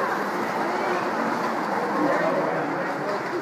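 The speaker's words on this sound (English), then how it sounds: "Dave, that's a train like yours." A toy train running on a train set display at Crossroads Village, a steady rolling rumble at moderate volume for a few seconds, with no clear speech.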